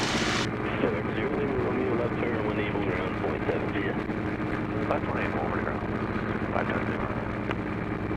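A North American T-6 Texan radial engine running at about 1900 RPM during a magneto check, a steady droning rumble heard from the cockpit with people talking over it throughout.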